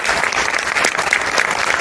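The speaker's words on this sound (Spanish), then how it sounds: "Fuerte aplauso, Horacio." An audience at a literary event in Los Angeles claps steadily and fairly loudly, a dense burst of hands that fills the room without pause.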